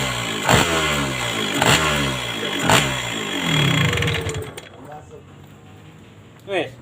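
A motorcycle engine is kicked into life after an exhaust patch repair and runs nearby with a few rhythmic revving pulses that settle toward idle, while people talk over it.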